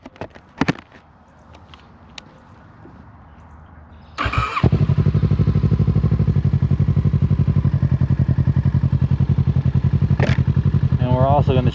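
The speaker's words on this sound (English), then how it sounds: "We're just going to ride around town and enjoy the sound of the bike." A Kawasaki Z650 motorcycle on a cold ride around Chicago starts up after a quiet stretch, then holds a loud, steady, pulsing engine note close by, with a brief rev near the end.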